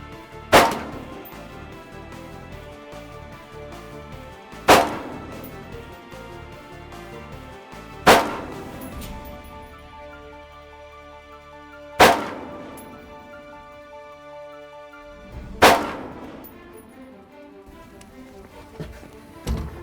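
Rifle shots at an outdoor shooting range ring out one at a time, five sharp loud cracks spaced roughly four seconds apart, each with a short decaying echo and quiet between.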